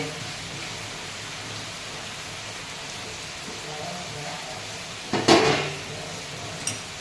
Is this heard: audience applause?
no